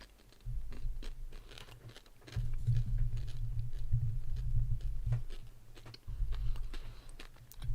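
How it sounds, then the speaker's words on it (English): Mini eggs crunch close to the microphone as a run of sharp, irregular chewing crackles over a steady low hum, with small movement noises mixed in. "I don't know if you hear me moving about or hear me crunching mini eggs."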